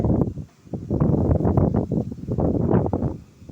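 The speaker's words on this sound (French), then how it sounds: "Ça fait tomber mon trépied carrément. Tellement il y a de vent." Strong gusty wind during a lightning storm buffets the microphone in loud, rough rumbling blasts that rise and dip.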